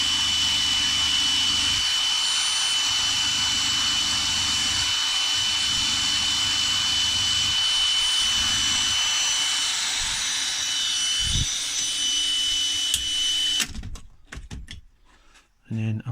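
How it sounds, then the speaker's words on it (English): A small bench polishing wheel fitted with a mop disc spins against a Honda CB750 Four K3 motorcycle part, giving a steady motor whine with a thin high tone and shifting load as the part is pressed, then winding down near the end. "I've got a little polishing wheel, it's got a little mop disc on it"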